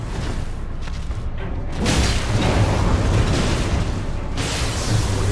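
A deep booming blast from an explosive dart cannon shot in Elden Ring erupts with a rushing whoosh, followed by sustained rumbling noise, loud and close.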